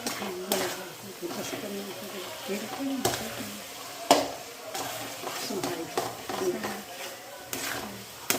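Gujarati sweet mixture cooking in ghee for Dussehra, with a soft sizzle under repeated scraping and knocking stirs against the pan at an uneven rhythm, fairly quiet, with a voice talking throughout.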